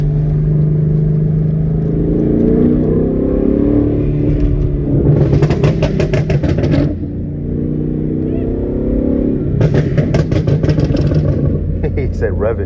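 A loud backfiring Ford 5.0 V8 rumbles steadily while driving, with two bursts of sharp crackling pops as it revs, close and continuous, and voices talking over it.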